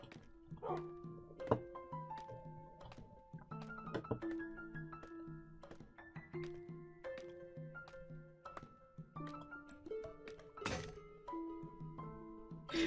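Barks and yips from a pet dog in Minecraft's hardcore survival mode come as short, scattered bursts over steady, melodic in-game music, moderately loud with no talking.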